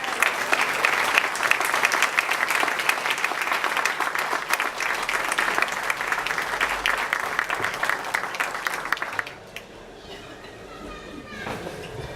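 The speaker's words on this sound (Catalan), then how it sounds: "Fort aplaudiment." Loud, sustained audience applause at a Catalan political rally presenting an electoral-list candidate, with dense clapping that cuts off abruptly near the end and leaves faint room noise.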